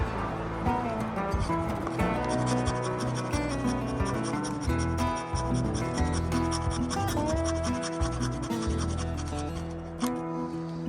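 A knife blade scrapes and shaves a piece of resinous fatwood, making a continuous rasping, scratching sound close up over layered background tones.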